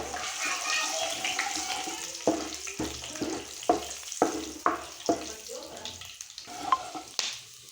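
Steady sizzling of finely chopped ginger frying in hot tempering oil for dal, with sharp clattering stirs and scrapes cutting through at intervals, close and fairly loud.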